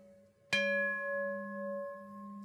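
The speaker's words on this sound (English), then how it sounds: "With a singing bowl, but it's just a singing pot" A secondhand cooking pot from Value Village struck once like a singing bowl, giving a sharp onset followed by a pure, sustained metallic ring that hums steadily and fades only slightly.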